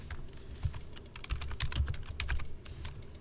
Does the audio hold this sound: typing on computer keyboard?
yes